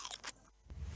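A crunchy cream-filled Bisco biscuit is bitten into in a radio advert, producing a sharp crisp crunch up close followed by brief chewing, with no voice over it.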